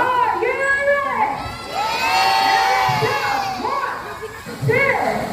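Crowd of children and adults cheering and shouting at a sea lion show, loud overlapping excited voices and whoops that rise in waves, close and continuous.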